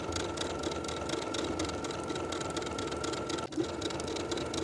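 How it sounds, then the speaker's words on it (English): A sewing machine runs steadily while stitching the hem of a pant leg, a continuous rapid mechanical whir with fast needle ticking, close and fairly quiet, with one brief hitch near the end. "I'll sew along my finishing stitches all the way around"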